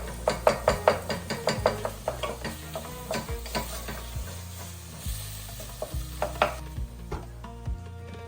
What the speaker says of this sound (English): Add some oil back in the pan and add in some ground lamb.